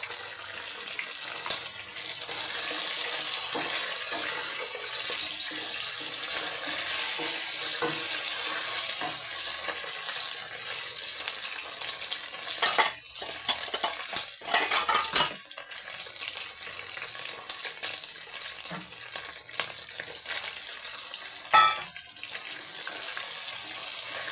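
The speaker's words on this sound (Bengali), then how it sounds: "মশলাটা কষানো হচ্ছে" Spice masala sautéing for chicken pulao, a steady broadband sizzle throughout with a few louder scraping stirs near the middle and one sharp clack toward the end; no talking.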